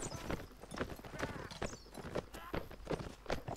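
Horse hooves clip-clopping in the medieval combat game Mount & Blade Warband, with a steady run of thudding hoofbeats at close range under busy game sound and some speech.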